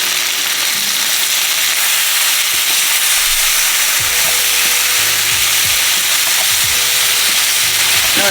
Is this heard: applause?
no